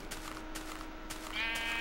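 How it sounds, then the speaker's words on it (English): In Minecraft, a sheep bleats once near the end, a short wavering cry rising over a low, steady game background hum. "Those are sheep."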